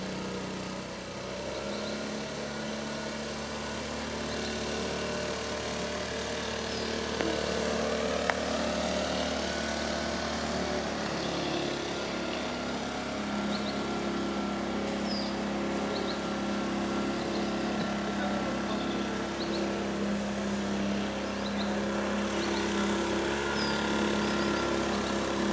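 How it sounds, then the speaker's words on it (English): A leaf blower drones steadily at the Copan Mayan ruins in Honduras, a continuous engine hum that runs throughout at moderate distance, blending with outdoor ambience and no talk. "The guy with a leaf blower, everybody else seems to be raking with a rake."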